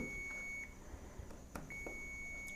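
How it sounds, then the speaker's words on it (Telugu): A steady multimeter continuity-test buzzer beep, checking a limit switch's contacts, cuts out briefly midway and resumes, over faint background noise and small clicks. "ఇది బజర్ సౌండ్ వస్తుంది"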